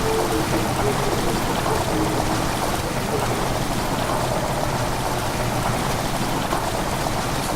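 Water rushes and splashes in a cistern in Amnesia: The Dark Descent, a loud, steady hiss like pouring rain that fills the scene with no talk.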